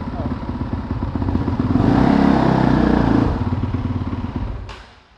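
A used motorcycle pulls away in first gear with the front brake held as the clutch is slowly released, engine loud and close, rising to a strained drone before fading out; someone speaks over it.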